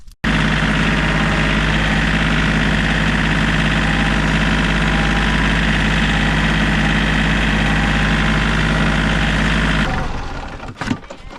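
A tractor engine runs at a steady idle, loud and close, with a constant low drone and rumble for about ten seconds before cutting off, leaving a few brief knocks and clunks.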